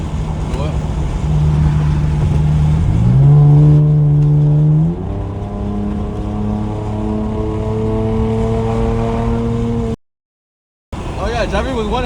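A Chevrolet Camaro is driven on a cruise, its engine droning loud and close with a steady low tone that rises in pitch as it accelerates, and voices are heard at the end.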